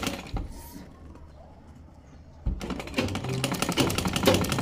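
A sewing machine stitches piping onto a round or V-shaped kameez neckline, its rapid mechanical clatter starting after a quiet pause and running close and steady to the end.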